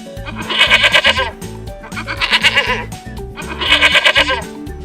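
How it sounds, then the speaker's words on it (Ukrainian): A grey goat bleats three times in a row, each call loud and wavering, over a soft rhythmic background. "Це сіренька в нас коза."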